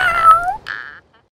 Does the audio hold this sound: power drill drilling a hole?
no